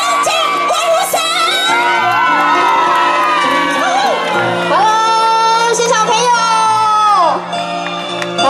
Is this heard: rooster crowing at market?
no